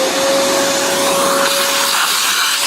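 A vacuum cleaner runs steadily and loud, sucking coffee residue out of a Mahlkonig Pro M series coffee grinder, with a constant broadband roar and a sustained tonal whine throughout.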